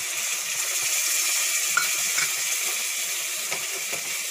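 Tomato puree hits hot spiced oil for a chicken kofta curry, giving a soft, steady hiss and crackle with faint low tones beneath, fairly even and close.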